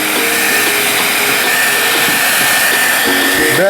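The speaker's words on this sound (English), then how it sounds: "Better hit these bad boys with a hot blow dryer." A hot hair dryer blows steadily on plastic action figure packaging, a loud, continuous whirring roar lasting throughout with no pauses, close to the listener.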